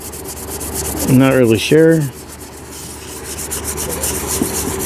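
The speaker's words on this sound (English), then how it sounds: "But it sands pretty easy." Hand sanding on rust repair on a GMC K1500 4x4 truck, a rhythmic scratchy rubbing that repeats steadily and close, briefly overlapped by someone speaking.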